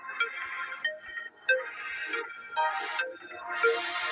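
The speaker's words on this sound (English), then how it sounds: "Another phone call from someone I don't recognize." A phone ringtone in the video game Clock Tower plays a repeating electronic melody in bursts of about a second each. It is clear and steady, with no talking.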